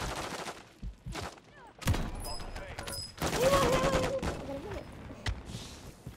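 Gunfire in the video game Warzone 2.0, bursts of shots mixed with game effects and tones across the clip, loud and close, with someone talking over parts of it.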